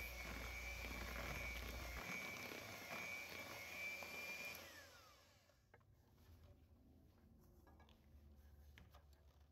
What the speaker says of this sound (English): I'm going to go ahead and get a mixer on low speed